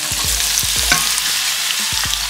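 Prawns sizzling in olive oil in a frying pan, a loud, close, steady crackling hiss broken by several sharp scraping stirs of a utensil against the pan, with no voices.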